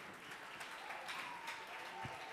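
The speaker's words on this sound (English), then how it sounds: "let's add her another hand of applause" Applause from an audience at a women-in-fintech leadership event: a soft, steady patter of clapping hands, fairly distant and low in level, running throughout.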